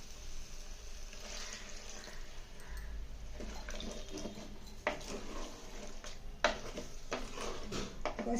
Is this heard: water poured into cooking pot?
yes